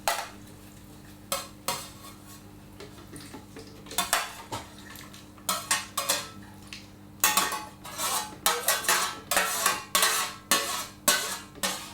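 Hot metal roasting tray of mushrooms sliding into an oven, with a run of sharp metallic clanks, scrapes and rattles that come in irregular bursts and grow busier toward the end, close and fairly loud.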